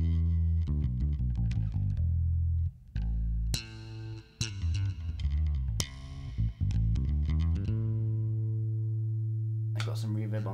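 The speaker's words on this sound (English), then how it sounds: "I've got some reverb on there as well." Electric bass, played with a stick/pedal board rig, plays a run of plucked notes with short gaps, then holds a long ringing tone that fades into a reverberant tail from a reverb effect; a voice speaks briefly.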